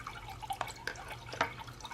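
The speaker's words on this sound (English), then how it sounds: "there's a look at the pump. And you see the water bubbling up." A cat water fountain's pump bubbles and drips water, a quiet, irregular patter of small splashes and gurgles heard close up with no voices.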